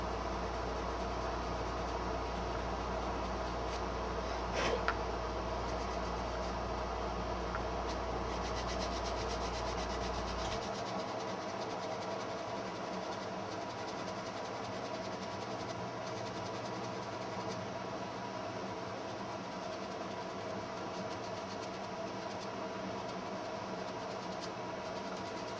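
Sandpaper a little finer than 150 grit rubs over the chassis of a 1959 Chevy drag truck to feather the edges. It makes a steady, close scratchy hiss that continues without a break and has no talk over it.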